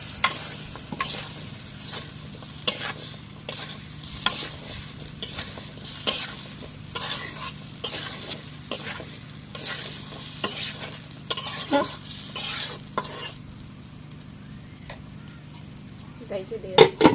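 Potatoes are stirred into fried spice masala, with repeated spoon scrapes and knocks against the pan over a constant sizzle, close and fairly loud, with a voice talking now and then.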